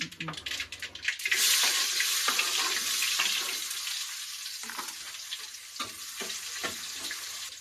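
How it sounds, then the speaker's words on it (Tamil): Onions and crackling mustard seeds frying in hot oil for a village-style crab soup, a bright steady sizzle with scattered spluttering pops, close and fairly quiet, with a few brief stirring knocks. "கடுகு பொரிஞ்சதுமே வெங்காயம் போடுறோம்"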